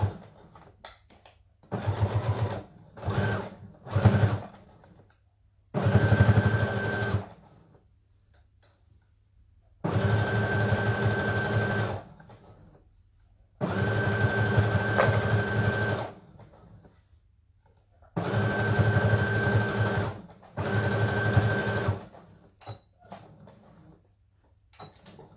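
Sewing machine stitching the pieces of ankle boots: a close, steady mechanical whirring that runs in repeated bursts of a few seconds, with short quiet gaps and a few quicker stitch runs at the start.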